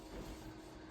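Squeaky electric fan running in a hot indoor corner, a faint steady mechanical whir with a thin high squeal held throughout.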